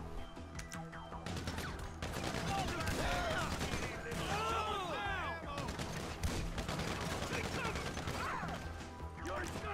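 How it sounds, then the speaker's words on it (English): Heavy submachine gun fire rattles through a busy video game firefight, dense overlapping bursts with crashes and mechanical clatter, while a player talks over the shooting. "They have heavy SMGs."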